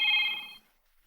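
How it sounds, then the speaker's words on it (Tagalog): A cellphone rings with one short, bright electronic tone burst that fades out after about half a second, heard alone. "At da umawawag iti cellphone ko."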